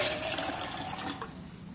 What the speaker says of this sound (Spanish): Y vamos a colocar aproximadamente unas 2 tazas de agua.